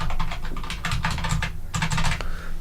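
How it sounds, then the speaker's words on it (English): Rapid clacking keystrokes on an IBM Model M keyboard, close and fairly quiet, coming in quick bursts with a brief pause midway. "Model M keyboard."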